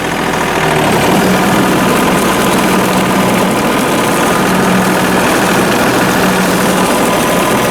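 A personal lawn tractor with its mower deck lowered runs at a loud, steady close rumble, the engine holding an even drone throughout without any talk.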